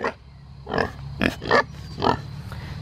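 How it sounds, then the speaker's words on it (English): Kunekune and other farm pigs grunt nearby in four or five separate short, throaty bursts, spaced about half a second apart over a low steady background hum. "Hi pigs!"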